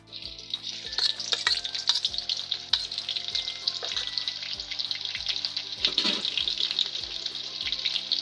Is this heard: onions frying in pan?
yes